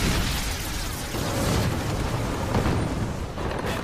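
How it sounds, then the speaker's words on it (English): Explosions and shell bursts roar through a nighttime Pacific tank battle between a U.S. Sherman and a Japanese Ha-Go, a dense, continuous wall of loud booms and blasts with no clear gaps. "Explosions and shell bursts illuminate the battlefield."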